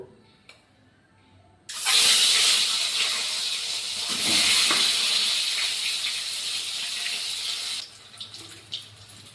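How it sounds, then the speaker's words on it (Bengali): Egg frying in a pan for a home-cooked meal, a loud, steady sizzling hiss that bursts in abruptly, holds for about six seconds, then cuts down to quieter crackles. "এবার ডিমটাকে ভাজবো।"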